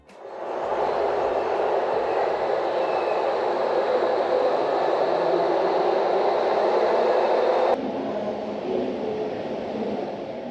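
FlixTrain passenger train travelling from Berlin to Basel, a steady broadband rumble and hiss of the moving carriage sustained throughout, with a slight drop in level near the end.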